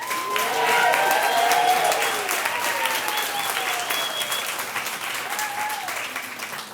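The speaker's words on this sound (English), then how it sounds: "I would like a round of applause for Kelly right now" A loud audience round of applause swells quickly and continues as dense, steady clapping, with a few faint voices and cheers mixed in.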